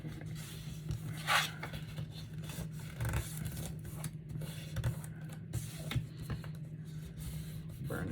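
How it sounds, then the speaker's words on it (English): Paper being burnished down with a hand tool gives quiet, soft rubbing strokes, a few brief scraping passes standing out over a low steady hum. "Burnish this down."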